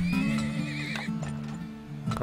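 A horse neighs loudly in the oil-drilling video game Turmoil, a long wavering whinny over steady hoof clip-clops and a low game hum, close and clear with no talking.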